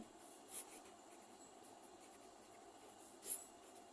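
Marker or chalk strokes writing the quadratic formula on a board during a maths lesson, faint scratching with two brief louder taps, no voices.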